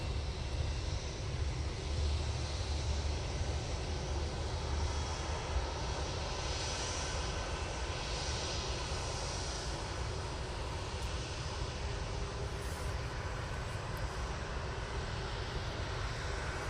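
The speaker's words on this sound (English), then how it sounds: "Qatar is pushing, you can see that down the back. Using an A320-200 for this flight." A Qatar Airways A320-200 pushing back, a faint, steady distant engine hum with a low rumble and wind-like hiss running continuously, no talk.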